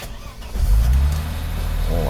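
Mercedes R107 280SL with a freshly repaired fuel distributor cranks and fires up, the engine swelling to a loud close rev and then settling into a steady run, with a voice speaking over it.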